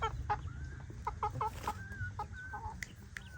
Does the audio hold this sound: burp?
no